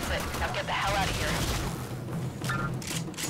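Rapid bursts of gunfire in the video game Warframe, dense and loud with a spoken voice mixed in over the shots.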